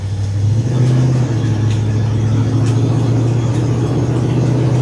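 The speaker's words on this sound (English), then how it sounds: "we'll do a little hard pull here since it runs real well" A 1970 Ford F100 pickup truck pulls hard under acceleration, its engine giving a steady, loud, low drone heard from inside the cab with no voices.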